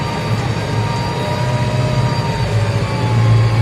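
Tractor engine labouring under load while ploughing a gravelly field for corn, a loud, continuous low droning rumble from inside or near the cab, steady with a slight swell toward the end.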